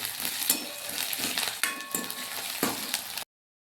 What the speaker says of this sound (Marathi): त्याच्यामध्ये घालून घेऊया आपण हा ठेचा वाटून घेतलेला आणि त्याला आपण 1 मिनिटभर भाजून घेऊया